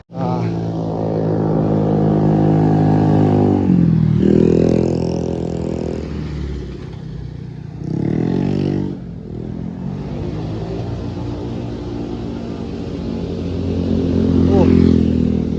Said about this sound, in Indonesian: kendaraan yang mencoba melintas melewati tanjakan Pasir Bilik